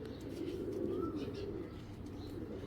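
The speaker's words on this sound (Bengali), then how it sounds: "কবুতর দুইটা একটু দেখাই আমি আপনাদের" Belgian and Dutch racing pigeons coo in a low continuous burble, close and steady, with faint chirps above.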